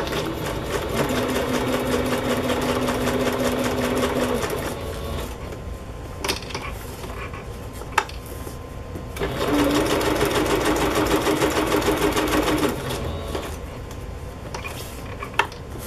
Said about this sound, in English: let's just sew these on. I'll do the zigzag